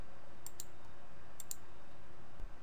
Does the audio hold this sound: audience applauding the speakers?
no